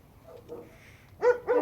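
A dog gives two close, loud barks in quick succession after a few softer whimpering sounds in a quiet space.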